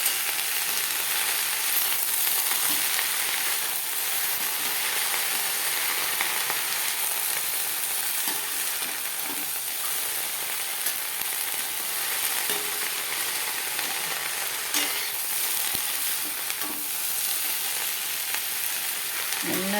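Capsicum and onion sauté in a pan with a steady, close sizzle and occasional stirring scrapes throughout, with no voices.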